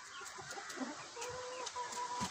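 A Black Copper Marans rooster clucks in a poultry enclosure, a run of short close clucks with a few drawn-out tonal calls, steady background noise beneath.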